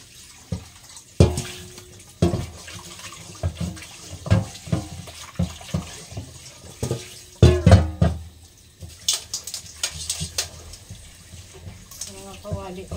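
Pots and pans being washed under a running kitchen tap, water flowing with clanks and knocks of cookware against each other, close by, irregular bursts, with someone speaking over it.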